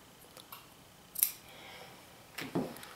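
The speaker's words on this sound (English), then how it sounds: "And I'm going to cut this right in the center." Fabric scissors snipping through a pant waistband at the back seam, two short, crisp cuts about a second apart, close and quiet, with no talking.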